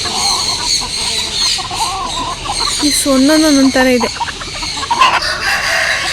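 Chickens cluck and squawk nearby, some perched in a tree, with a rooster's drawn-out crow in the middle and a person speaking briefly over the flock, in Coorg.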